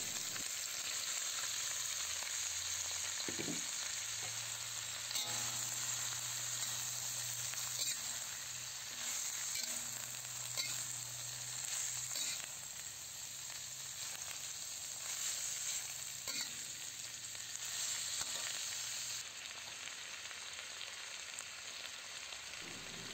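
Shrimp, cabbage and carrots sizzle and hiss steadily in a pan for pancit bato, with occasional stirring clatter over a constant close frying noise and no talking.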